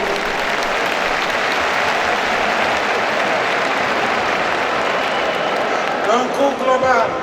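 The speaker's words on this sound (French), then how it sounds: "Ils méritent certainement nos applaudissements." An audience applauds at a Senegalese stadium inauguration, sustained dense clapping from a large crowd that swells slightly near the end, with a voice faintly over it.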